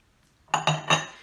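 A utensil clinks three times against a bowl while cookie dough ingredients of cocoa, pistachios and almonds are mixed, short bright metallic taps in quick succession.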